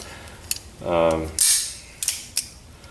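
A pistol with a newly fitted thumb safety is dry-fired with the safety off, giving a few crisp metallic clicks and snaps at close range along with a brief ringing mechanical tone, with no one talking.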